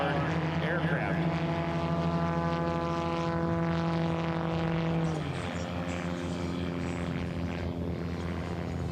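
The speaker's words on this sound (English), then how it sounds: "you can really hear the difference on that Yamaha-powered aircraft" Yamaha-powered race aircraft at an air race in Roswell, New Mexico, droning steadily with a strong engine tone that drops in pitch as it passes by. Commentators talk over the engine throughout.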